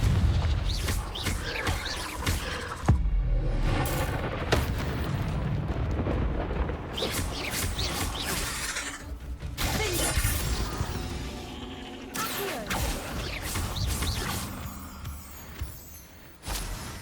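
Confringo spell blasting and shattering rocks in Hogwarts Legacy: a loud, dense run of explosive booms and crashing debris layered with game score, several surges and hits across the whole stretch with no pauses.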